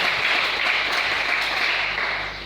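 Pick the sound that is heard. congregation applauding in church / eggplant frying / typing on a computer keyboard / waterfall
congregation applauding in church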